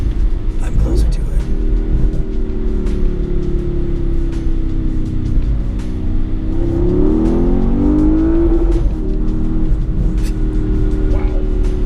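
A 2019 Porsche Panamera GTS engine pulls at half throttle, its deep rumble rising in pitch as it accelerates, heard from inside the car with people talking over it.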